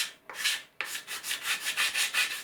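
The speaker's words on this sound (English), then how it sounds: "plywood takes quite a bit of sanding and you can hear the change" Plywood parts of a model aircraft wing are hand-sanded in short back-and-forth strokes. The rasping sound is close and steady, with two brief pauses near the start and then an even rhythm.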